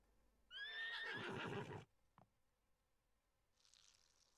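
A horse whinnies indoors in a house, one loud close neigh lasting about a second, followed by a brief knock and faint background rustle.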